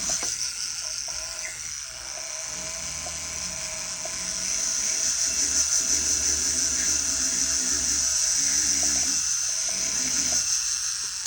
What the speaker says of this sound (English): All right, we'll start with a grinder. Let's switch to rubberized abrasive.